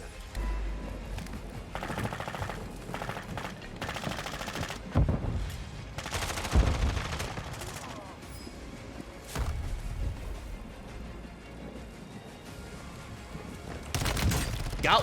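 X13 Auto pistol fire in the video game Warzone sounds as rapid bursts of automatic gunfire with booming impacts, repeated in several loud volleys over game background noise.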